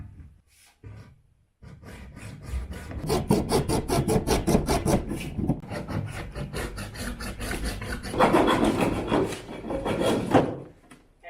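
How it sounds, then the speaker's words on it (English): Small hacksaw cutting through a piece of material for a DIY chicken feeder, a steady run of close rasping back-and-forth strokes with a brief pause, then a final burst of strokes. "For that, I'm just going to use a small hacksaw."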